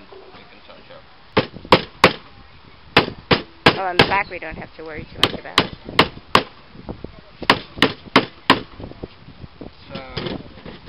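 Nails are hammered into wood, a series of sharp, close hammer strikes in uneven bursts, with a person talking in between.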